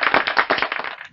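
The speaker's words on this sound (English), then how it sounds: "A round of applause for you." A short burst of rapid clapping, crisp and close, a quick flurry of claps that tails off after about a second, with no talk.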